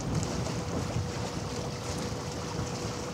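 Strong breeze gusting across a harbour at night where cruise ships and container vessels pass, a dense, continuous rushing roar buffeting the microphone with no voices.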